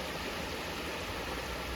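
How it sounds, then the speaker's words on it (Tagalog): A creek flows steadily near Obersee in Bielefeld, a dense, even rush of water heard close and continuous with no pauses and no talk. "Tapos ang daloy ng ilog."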